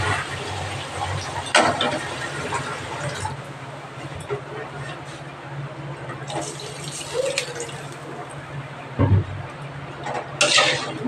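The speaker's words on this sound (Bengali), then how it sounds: "এবার আমি জল দিয়ে দেবো।" Water is poured into fried masala in a pan while cooking a Bengali fish curry with taro. Intermittent splashing and pouring bursts come through kitchen clatter, with a voice talking faintly in places.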